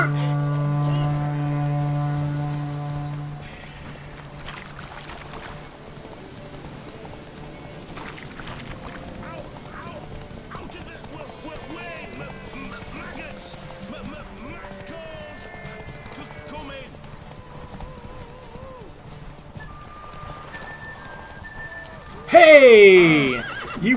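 A horse races in Witcher 3 with rhythmic clip-clop hoofbeats and a loud neigh near the end, under game music and sound effects, with voices speaking at times.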